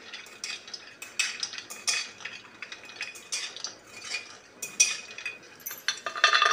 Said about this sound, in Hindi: घी में कुछ ड्राई फ्रूट्स फ्राई कर लेंगे, जैसे कि काजू ले लिए और पिस्ता बादाम ले लिए।